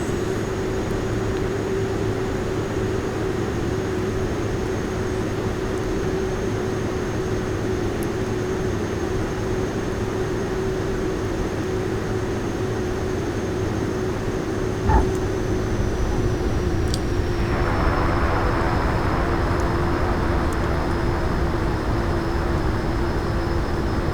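A Pilatec PC-12 turboprop in the X-Plane 11 flight simulator runs as its power is brought up, a steady engine drone and whine that shifts and grows slightly fuller partway through, heard alone without talk.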